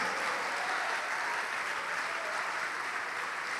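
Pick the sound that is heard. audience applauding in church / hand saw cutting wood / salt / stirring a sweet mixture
audience applauding in church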